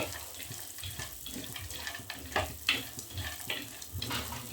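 Dry fruits fry lightly in ghee in a pan with a soft, steady sizzle, punctuated by irregular stirring scrapes and clinks at close range.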